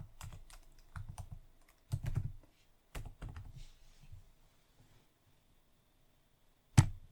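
A computer keyboard is typed on in short, quiet bursts of clicking keystrokes separated by pauses, with a final single sharp key press at the end.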